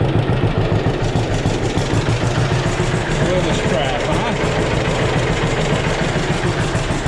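Cold John Deere A tractor engine idling, a steady low chugging drone that stays even throughout, close and moderately loud with no talk over it.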